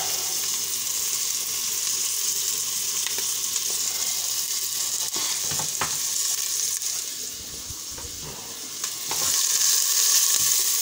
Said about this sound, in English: You'll know it's sizzling a bit